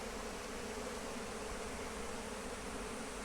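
A dense, steady hum of a honeybee swarm arriving at an apiary box, a continuous buzzing drone filling the air without pause.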